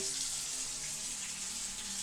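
Water gushing from a tap opened fully to maximum flow, feeding a gas water heater, a loud steady rushing hiss that holds evenly for the whole moment with no voices.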